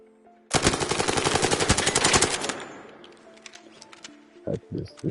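Burst-fire gunshots in the video game Arc Raiders: a loud, rapid string of shots for about two seconds, then fading echoes and a few scattered thuds.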